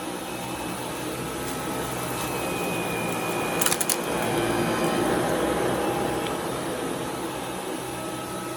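A Dyson V12 Plus cordless vacuum cleaner runs in auto mode on carpet with a steady, moderately loud whirring drone and a brief clattering rattle partway through.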